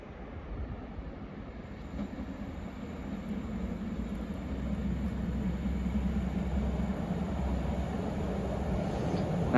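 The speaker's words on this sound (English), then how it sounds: "arriving in now, I believe, is the delayed 1400 Northern service from Hexham to Nunthorpe" A delayed Northern Class 156 diesel unit, number 156471, rumbles into Corbridge station, a low steady engine and wheel roar that grows gradually louder as it draws in, with faint high squeals over it.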